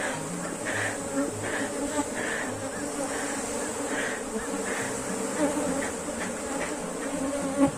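Honeybees buzzing around an open beehive during colony setup with brood frames and wax foundation, a dense, moderately faint hum with individual bees droning closer in short swells, steady and continuous.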